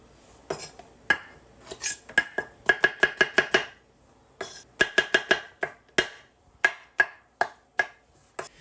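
A knife slices mushrooms on a cutting board for beef stroganoff, making crisp, close chopping knocks in uneven bursts, several quick strokes clustered together and separated by short pauses.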